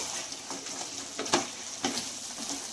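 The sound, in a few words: chicken frying in pan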